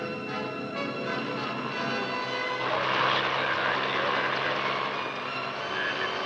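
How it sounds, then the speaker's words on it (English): Training helicopters taking off for stage fields in the 1960s make a dense, continuous rotor and engine drone that swells slightly midway, loud and sustained. "the copters take off to fan out toward the various training fields or stage fields scattered throughout the countryside"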